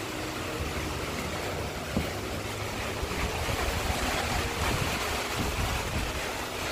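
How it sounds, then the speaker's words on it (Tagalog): Strong wind roars steadily through an outdoor rural spot during heavy rain, a dense, broadband rushing that buffets the microphone, constant and fairly loud with no voices. "Malakas na po ang hangin mga kalingap po."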